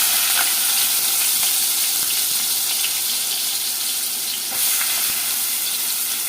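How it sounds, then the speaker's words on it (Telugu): Onions sizzle loudly in hot oil with fenugreek seeds for a mushroom curry, a dense crackling hiss that dips briefly, then continues with faint clicks of stirring. "వెంటనే ఉల్లిపాయలు అయితే వేసేసుకుందామండి."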